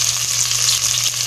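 Chopped onions sizzling in hot oil in a pan while cooking salmon belly sinigang, a steady, close frying hiss with no breaks.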